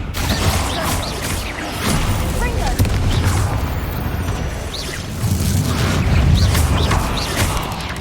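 Repeated Confringo fire-spell blasts boom and crackle in Hogwarts Legacy, dense bursts rolling over a continuous noisy battle din, with a voice calling out spells between them.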